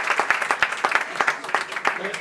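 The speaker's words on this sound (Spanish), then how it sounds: "Un aplauso ahora" A small audience at The Clover House in Madrid claps in sparse, distinct individual hits with a loose rhythm, fairly close, with faint talk mixed in.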